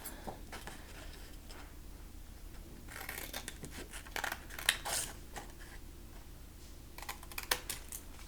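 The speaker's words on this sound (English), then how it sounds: "I'm going to cut out these 4 boxes exactly the way that you see them" Scissors cut paper boxes out for a handmade Midori pocket insert, a quiet close series of irregular snips and crisp paper rustles, with a few louder cuts grouped together.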